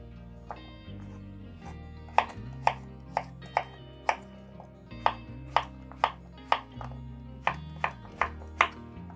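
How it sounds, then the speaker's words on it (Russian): A knife chops a cucumber for a Greek horiatiki salad on a cutting board, about a dozen crisp, evenly spaced thuds at a steady rhythm, close and clear with a soft musical backing underneath. "Режем наш огурец."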